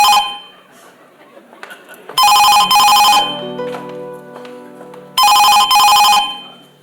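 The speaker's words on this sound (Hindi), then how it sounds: "हेमा, अब इस करता धरता को फोन भी उठाना पड़ेगा।" A telephone bell rings in two loud, close bursts of double trills separated by a pause, with a low musical drone between them in a Hindi family drama scene.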